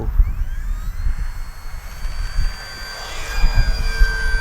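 RC P-51D Mustang model plane on takeoff, its engine droning loudly and steadily with a rising, whining pitch, heard outdoors with no talking.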